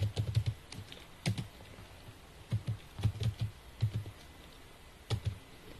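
Quiet bursts of keystrokes on a computer keyboard, short clusters of clicks separated by pauses, close and alone without talk.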